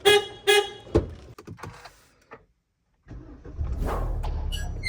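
A car is started at night so it can be taken out of a narrow residential street. A few sharp knocks and clunks come first, then a short silence, then the engine catches and settles into a steady, close idle rumble.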